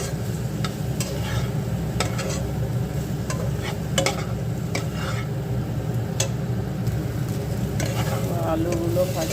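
Boiled potatoes frying with spices in a pan, a steady low sizzle carrying on throughout with repeated scraping and stirring clicks of a spoon against the pan, close and fairly loud, no talking.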